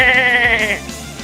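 A person imitates an angry sheep with a short, loud, wavering bleat that ends in a quick grunt.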